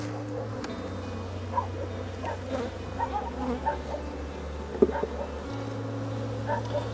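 Honey bees buzz inside an open hive, a continuous soft drone heard up close with a steady low hum and occasional brief louder passes.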